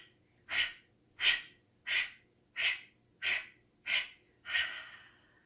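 Seven deep, deliberate breaths repeated at a steady rhythm during a guided root chakra session, each a strong close rush of air with short pauses between, the last one longer and trailing off.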